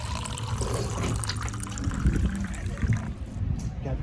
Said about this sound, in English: I'm thirsty right now, so I'm gonna get some water.